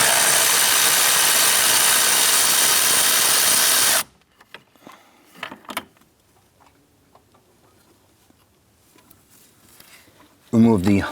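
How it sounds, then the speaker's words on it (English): A 13mm deep socket on extensions removing the upper nut of the pedal assembly in a 2008-2013 Nissan Rogue. It gives a loud, continuous whirring burst for about four seconds, then faint clicks and handling, with a brief knock near the end. "Using a 13mm deep socket and extensions, we're going to remove the upper nut holding the pedal assembly in place."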